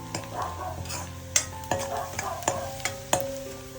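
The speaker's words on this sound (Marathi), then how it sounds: "कांदा आणि लसूण टाकून कांद्याचे परतून घेऊया" Onion and garlic sautéing with turmeric, coriander powder and red chilli in a pan over a wood-fired stove, a steady sizzle broken by a handful of sharp scraping stirs.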